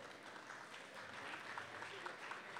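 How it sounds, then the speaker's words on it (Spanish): Audience applause welcoming a speaker at an entrepreneurship talk, a steady, fairly faint wash of clapping that carries on through the whole stretch without pause. "recibámoslo con un fuerte aplauso,"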